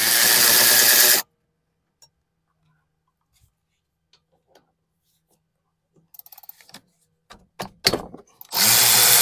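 Power tool on the 14mm brake caliper bolts of a Nissan Altima rear brake: a loud sustained whir opens, then quiet with small clicks and clanks of loosened parts, and a second loud burst of the tool at the end.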